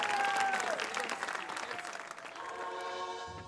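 Audience applause greets a singer entering the stage on a Turkish televised singing competition, a dense burst of clapping that fades slightly over a few seconds while music tones come up underneath.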